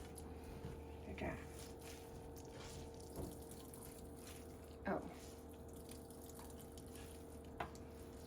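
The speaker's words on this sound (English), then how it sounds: "Gotta crush the water out of the baizai, out of the Napa cabbage." Water is squeezed by hand out of chopped Napa cabbage for a pork dumpling filling: faint, close, wet squishing and dripping in a few scattered bursts over a quiet steady hum, with a brief voice.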